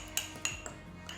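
Fork clinking against a dish while mashing egg yolk with vinegar and olive oil for deviled eggs: a few sharp metallic taps spaced apart, quiet and close, with no talking.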